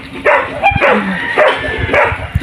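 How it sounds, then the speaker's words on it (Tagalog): A dog barks repeatedly at close range, four or five sharp barks in an uneven rhythm. "Takot ako, may aso."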